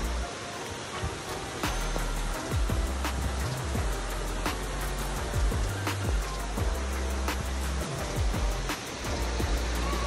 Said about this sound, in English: it did piss down with rain